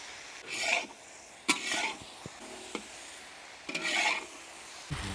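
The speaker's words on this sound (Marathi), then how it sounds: "व्यवस्थित आपण पाच मिनटं अजून परतून घेऊया भाज्या सर्व मिक्स करून" Mixed vegetables including okra, cluster beans and French beans being stirred in a pan for a festival vegetable dish, giving a few separate scraping, rubbing passes of the spoon against the pan with light sizzle between them.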